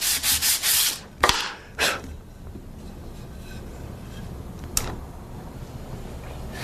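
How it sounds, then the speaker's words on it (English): Tear-out is brushed off a routed wood surface in several quick, close scratchy strokes bunched at the start, then a lone stroke later over quiet background. "Just brush the surface tear out off."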